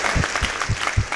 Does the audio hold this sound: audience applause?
yes